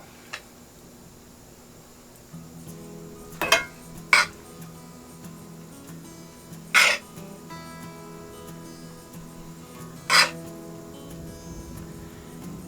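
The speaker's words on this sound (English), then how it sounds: "it's easier to stuff with a smaller spoon because you can fit the spoon into the opening" A small spoon clinks against a dish while stuffing bell peppers with a cheesy filling in a home kitchen: four sharp, isolated taps spaced seconds apart over a faint, steady background hum.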